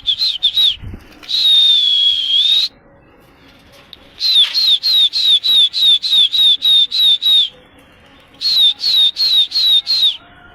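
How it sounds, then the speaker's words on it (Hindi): Pigeons take off and fly in short bursts of loud wing flapping, repeated in rapid sequences, mixed with high whistling tones and with no talking. "देखो भाइयों कबूतर फुल पीछे को भागने को मूड में है।"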